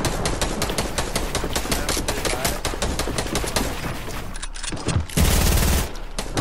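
Rapid automatic gunfire in a Fortnite duo squad match, dense rattling bursts of shots fired close and loud, briefly pausing before another sharp volley.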